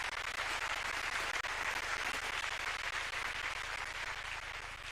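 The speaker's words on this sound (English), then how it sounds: "Please give yourselves a round of applause." A large audience at the Africa Forward Summit applauds in a dense, sustained roar of clapping that stays steady and loud from start to finish.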